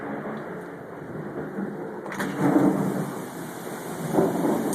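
Steady heavy rain from a tropical storm in Destin, Florida, with rolling thunder that swells midway, plus a sharp crack and a later rumble.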